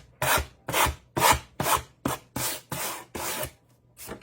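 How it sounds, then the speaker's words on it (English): Hand sanding of damp decoupage tissue paper over a surface, eight close, rhythmic rasping back-and-forth strokes with short gaps between them. "make sure you sand away"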